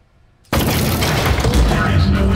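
Turret gunfire in Aperture Desk Job bursts in abruptly after a quiet moment, a loud, close barrage of booming, crackling shots that keeps going under a voice talking.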